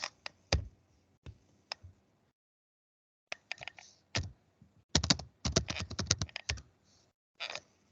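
Typing on a computer keyboard during Linux user management, heard as bursts of close, crisp key clicks separated by pauses, with a fast run of keystrokes in the middle.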